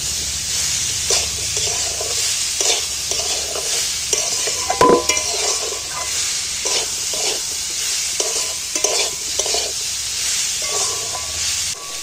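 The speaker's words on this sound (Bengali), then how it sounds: "এইবার ভালো করে নাড়াচাড়া করে বেশ ভাজা, একটু ভেজে নিলে জিনিসটা ভালো হবে। ভেজে নিচ্ছি নাড়াচাড়া করতে।" Amla pieces are stirred and fried with salt in a pan, giving a constant hissing sizzle broken by repeated spatula scrapes and taps, one sharper clank midway, no talking.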